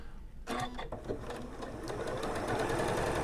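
An MC9450 QCP Professional sewing machine stitching a quarter-inch piecing seam for quilting, its close steady motor hum and fast needle rattle starting after a brief quiet moment and running on evenly.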